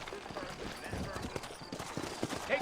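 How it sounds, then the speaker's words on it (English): Horse hooves clip-clop in Red Dead Redemption, set in a Western town at a stagecoach, a steady rhythmic trot with other game ambience and voices around it. "You ain't gonna find sturdier horses than these in all of New Ulster."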